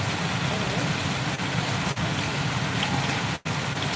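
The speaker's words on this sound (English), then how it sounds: "It's raining" Steady rain falls on a carport roof, a dense even hiss with no clear individual drops, continuous and fairly loud throughout, with a few brief dips and no talking.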